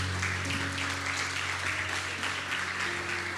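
Steady, dense applause from a church congregation during a Spanish-language worship service, sustained and fairly loud throughout with faint sustained organ or keyboard tones beneath.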